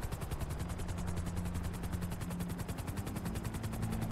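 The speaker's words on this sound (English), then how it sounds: "Let me just turn off the helicopter entirely." A helicopter in Grand Theft Auto V chops with a fast, steady rotor pulse and a low engine drone, continuous for several seconds at moderate loudness.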